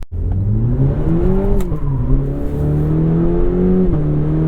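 A 2021 Cadillac CT4-V engine revs loud and close, holding a high growl, its pitch climbing and dipping as the throttle shifts.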